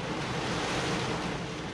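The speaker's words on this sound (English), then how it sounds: "A lot of boat traffic, a lot of waves." Waves on Center Hill Lake at Edgar Evans State Park, churned up by heavy boat traffic, make a steady broadband wash with wind rumble, constant and fairly close, with no voices.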